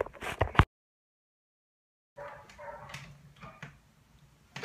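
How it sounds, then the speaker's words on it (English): Dogs in a residential neighbourhood let out a short burst of barks and yips, then fall quiet after a brief gap before more scattered barking and whimpering, all at a moderate distance. "Dogs in my neighborhood are really, really loud at the moment."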